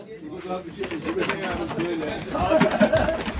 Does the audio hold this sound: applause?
no